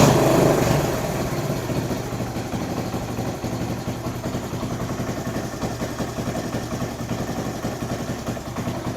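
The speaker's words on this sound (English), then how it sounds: "That's idling about 1200 RPM." A Kawasaki KL250 motorcycle engine idles steadily at around 1200 RPM after carburetor work, a close, even low rumble with fast regular firing pulses that holds constant throughout.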